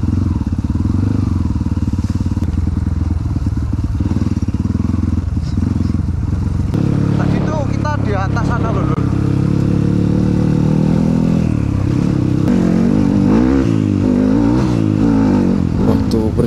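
A motorcycle rides along a trail route with its engine droning loud and close, revving and accelerating in surges, while a rider's voice is faintly heard under the engine noise.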